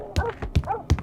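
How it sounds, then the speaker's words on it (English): Several dogs give three sharp, loud barks with whining yelps between them, a dramatized pack of fierce dogs in a radio-style audio play. "The dogs."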